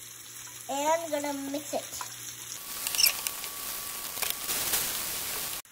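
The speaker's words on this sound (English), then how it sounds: "so in the same olive oil, my mom's gonna saute the onions" Onions sauté in olive oil, crackling and sizzling steadily at close range once a short stretch of talking ends.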